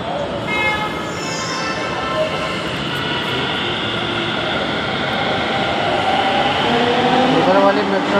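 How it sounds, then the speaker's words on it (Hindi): Metro train rumbling steadily through a crowded station, with a sustained broadband roar and rising tonal whine toward the end, while people talk faintly in the background. "उधर वाली मेट्रो जा रही है"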